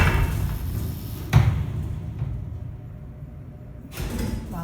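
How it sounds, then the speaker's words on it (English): A vintage Westinghouse freight elevator door closes with a loud rumbling slide, a sharp thud at the start and a second bump near the end, heard close by in an indoor space. "Actually, we'll close the door first."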